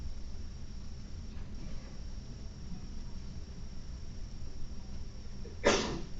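A single sharp sneeze bursts out near the end, close and brief, over a faint steady room hum in an otherwise quiet indoor space.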